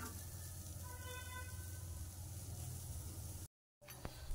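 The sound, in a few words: onion sizzling as it fries on a hot tawa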